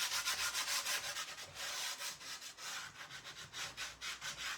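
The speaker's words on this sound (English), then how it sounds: "Might just sand it just there." Sandpaper rubs back and forth over a painted wooden tray being prepared for chalk paint, a steady run of close, rhythmic scratchy strokes with no talk.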